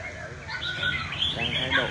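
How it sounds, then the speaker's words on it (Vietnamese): Competition fighting songbird calling in bursts of bright, chirpy phrases, fairly close amid steady background noise and voices. "những chim đấu gián đoạn nhiều như thế này"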